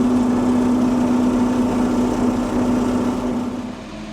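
Small green tractor engine running steadily nearby, a continuous buzzing drone with a strong even hum that eases slightly toward the end, with no talking.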